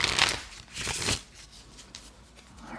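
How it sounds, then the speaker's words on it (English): Action cards from a standard playing-card deck shuffled for a tabletop roleplaying game, two riffle bursts close by followed by softer card handling and fading rustles, with no speech. "I'm going to shuffle out some action cards here for"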